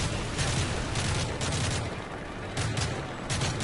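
Rapid gunfire rattles through a Call of Duty MW3 firefight, repeated bursts of automatic shots and overlapping reports filling the whole stretch at steady loudness, with no voices.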